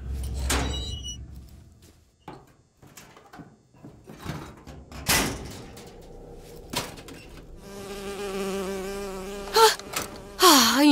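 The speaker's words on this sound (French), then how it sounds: "Une abeille. J'ai horreur de ça." A bee buzzing in BioShock Infinite, a thin wavering drone that rises and falls in pitch as it circles close, heard among scattered quiet thuds and game ambience without speech.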